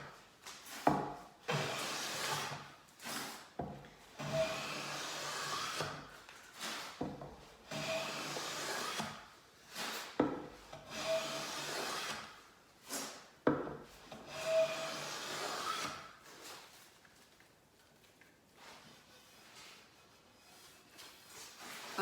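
A Veritas low-angle hand plane shaves across a wooden board in repeated close strokes, each a rasping scrape about a second long, with brief pauses between them; the strokes thin out and fade toward the end.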